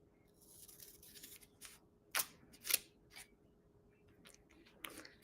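Scissors trim material for a handmade wallet, a few sharp close snips spaced out over quiet rustling and handling noise.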